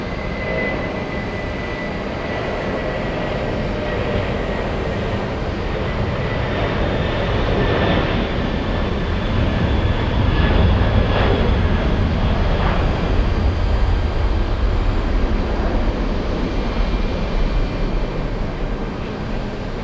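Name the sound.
Boeing 747 taking off at JFK airport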